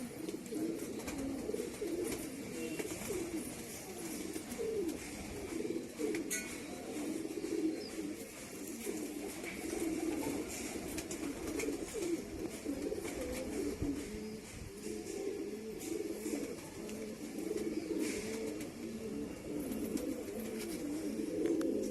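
A flock of pigeons coos without pause, a steady, layered murmur of low, throaty calls close by in a pigeon keeper's loft in Allahabad.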